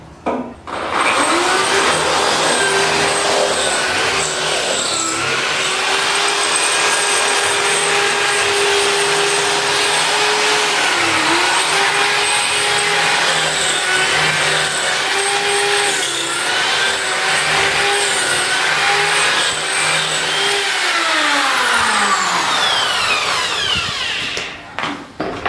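Power drill with a thick bit driving screws while repairing a dog kennel: one long, loud, steady motor whine, close up and sustained for over twenty seconds before it winds down.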